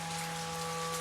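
Rain falls in a children's cartoon about two bears, a steady dense hiss of drops with faint tonal hum underneath, constant and even through a brief moment without talk.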